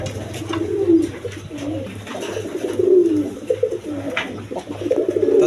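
A large flock of pigeons kept together in a loft coos continuously, many overlapping low, rolling calls filling the space at close range with no talking.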